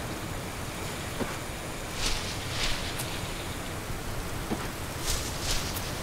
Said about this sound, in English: Now, we've been exposed to rain for a bit